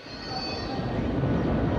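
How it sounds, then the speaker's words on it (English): A new Paris metro express train runs along its rails with a steady, building rumble and a faint high wheel squeal, loud and continuous throughout. "this brand new metro express"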